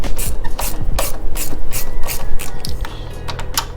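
A ratchet breaks loose 10 mm bolts on a Can-Am Ryker during a sway bar and sway link install, giving close, loud bursts of rapid pawl clicking with short pauses between strokes.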